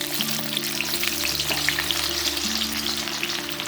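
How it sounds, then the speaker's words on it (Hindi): Raw onion fries golden in hot oil for chivda, a dense close sizzle with fine crackles running continuously, with no talking. "तो यह हमारा कच्चा अनियन था जिसे हमने गोल्डन फ्राई किया है"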